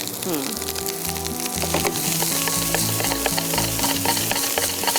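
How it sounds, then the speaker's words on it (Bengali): Masala beef egg fried rice frying in a pan gives a loud, continuous sizzle with stirring scrapes, while a melodic music track plays underneath. "এই ভাজা ভাজাটাই হচ্ছে ফ্রাইড রাইসের মূল জিনিস"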